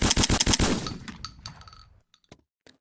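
A SPAS-12 semi-automatic 12-gauge shotgun firing in a video game, a rapid run of about six loud, booming shots that fades into a tail of echo, followed by a few light metallic clinks.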